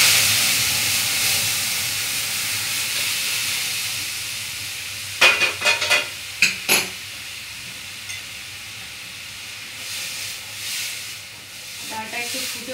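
Masoor dal being tempered in a hot pan gives a steady hissing sizzle, broken midway by a quick cluster of sharp crackles and clatters, then a few softer pops near the end; no talking.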